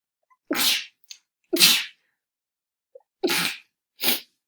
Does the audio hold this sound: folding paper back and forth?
no